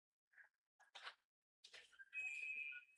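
A referee's whistle at a high school ice hockey game sounds after a few short chirps and rink noises: one sustained shrill blast, moderately distant, with arena ambience around it.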